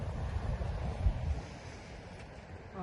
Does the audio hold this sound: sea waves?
yes